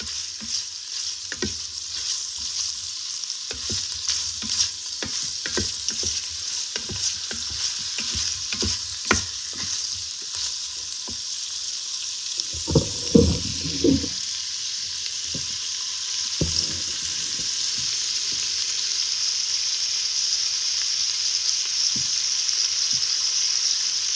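Conecuh Cajun smoked sausage sizzles and spits steadily in an Instant Pot, with scattered crackles and a few scraping stirs partway through.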